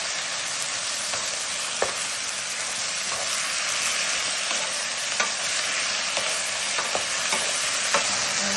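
Food frying in olive oil hisses with a steady, dense sizzle while a utensil stirs it, leaving a few faint scrapes and clicks scattered through the sound.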